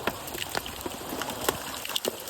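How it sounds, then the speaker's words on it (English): During a storm over Sam Rayburn lake at a bass fishing tournament, hailstones strike in a thick patter, with sharper individual ticks and knocks scattered over the hiss and no voices. "Yep. Yeah, that's hail."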